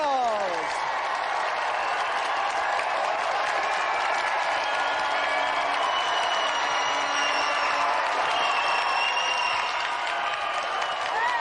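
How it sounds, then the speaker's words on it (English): Sustained applause from a large studio audience at a TV game show fills the room, steady clapping with some cheering and whistles, loud and continuous throughout. "give a round of applause for our 3 volunteers"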